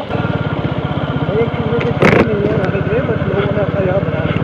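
A Royal Enfield motorcycle is ridden on the Delhi–Mumbai Expressway, its steady thumping engine close and continuous under people talking, with a brief louder rush of wind or noise around the middle.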